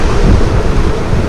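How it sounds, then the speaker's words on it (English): Strong storm wind howls steadily at 33 knots gusting to 40 knots around a boat drifting off Mozambique, a loud, dense roar with low rumbling buffets and no pauses. "The wind was really howling"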